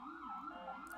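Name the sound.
emergency vehicle sirens outside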